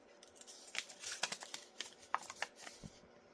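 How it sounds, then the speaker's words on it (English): Plastic packaging around craft supplies crinkles and rustles close by in a quiet room, a run of soft, irregular crackles and small snaps. "Sorry, crinkle, crinkle."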